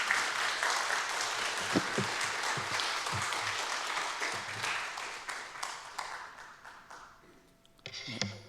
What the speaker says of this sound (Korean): 우리 선교사님 나오실 때 한번 박수로 환영해 주시기 바랍니다